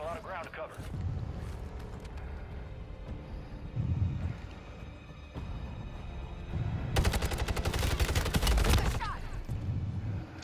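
Rapid bursts of automatic gunfire in the Warzone video game's Resurgence duos mode, loud and close, with sharp cracks building into a dense volley toward the end, under ongoing talk from players.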